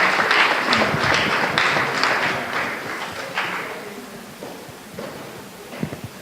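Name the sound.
audience applause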